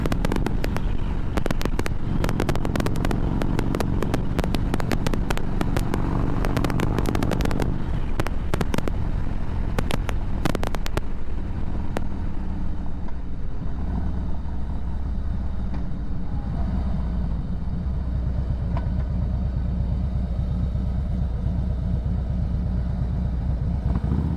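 A motorcycle cruising at about 100 on a windy day. Heavy buffeting wind roar and engine drone fill the helmet-level recording, with crackling gusts early on that ease into a steadier low rumble.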